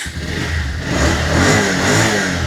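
A used Bajaj Pulsar motorcycle engine revs up from a low rumble and holds a loud, rising mid-pitched drone at close range, with no one talking over it.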